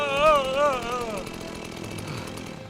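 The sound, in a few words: chainsaw in a horror video game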